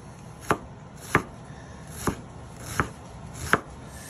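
A knife chops through a Vidalia onion on a cutting board in five crisp, evenly spaced strokes, each a sharp close knock against a quiet kitchen background with no talking.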